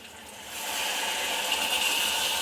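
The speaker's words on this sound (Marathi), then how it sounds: "आणि हेच पाणी ओतते आता." Water pours steadily into a pressure cooker with a bright rushing hiss that swells after the first moment and keeps flowing without a break.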